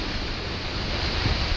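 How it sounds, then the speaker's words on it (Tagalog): Strong, steady wind roars loudly and without a break at the onset of a typhoon, a dense rushing noise that stays near and constant throughout. "Lumalakas na yung hangin."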